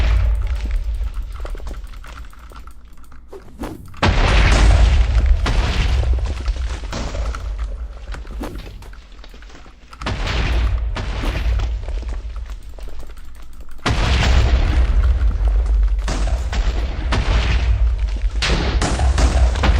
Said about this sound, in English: in the distance you can hear shots